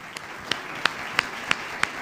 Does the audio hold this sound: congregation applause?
yes